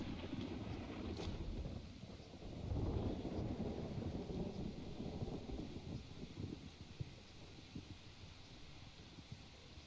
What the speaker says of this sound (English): Have lightning bolts that now strike down